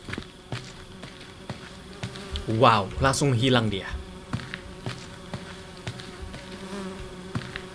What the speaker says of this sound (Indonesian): Sudah penuh dengan lalat.